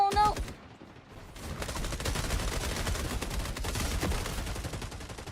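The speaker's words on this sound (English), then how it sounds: "I ran into an airstrike!" Airstrike blasts in Rainbow Six Siege X come as a dense, sustained rumble of rapid explosive bursts after a brief lull, loud and close.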